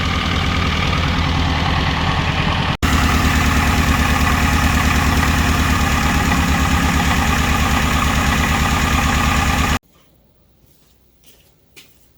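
Saturn S-Series car fitted with a rear-mounted turbo, engine idling loud and close with a steady rumbling pulse and a brief cut near the start, then falling quiet to faint background noise near the end.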